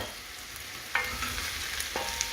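Chicken curry stirred in a pot, a steady close sizzle with two sharp utensil scrapes against the pot partway through, no voices.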